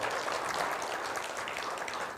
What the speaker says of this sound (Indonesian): tepuk tangan buat tim Thomas Cup Indonesia